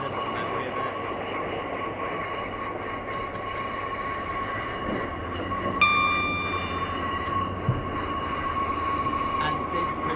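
A Class 142 Pacer diesel train runs in Train Simulator, giving a steady rumbling roll with a continuous engine hum, brief whistling tones partway through and a faint clunk near the end; someone talks over it.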